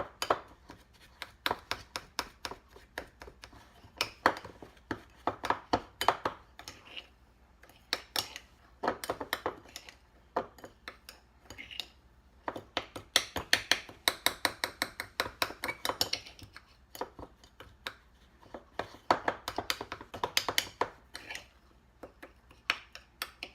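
Crushed graham crackers being stirred with a tablespoon of butter for a cheesecake crust, giving steady rhythmic clinks and scrapes of a utensil against a bowl, alone and fairly close.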